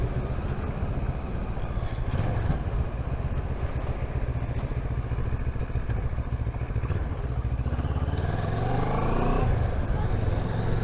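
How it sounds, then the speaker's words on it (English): A Moto Morini Seiemmezzo SCR motorcycle's exhaust drones steadily while riding, a continuous engine note under heavy wind rush, rising in pitch toward the end as it accelerates. "Hear the exhaust here at all?"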